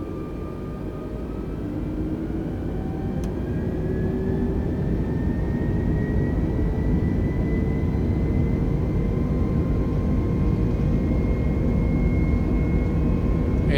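Airbus A320 jet engines spooling up on the takeoff roll in Microsoft Flight Simulator 2020, a steady broadband roar with rising tonal whines that holds at moderate loudness throughout, no speech.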